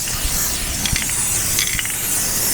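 Multi-directional aerosol paint can sprayed upside down on a rolling bookcase upcycle, giving a steady hiss with a few light clicks and rattles of the nozzle and can.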